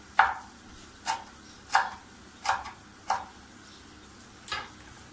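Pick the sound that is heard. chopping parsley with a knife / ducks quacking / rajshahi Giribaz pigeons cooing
chopping parsley with a knife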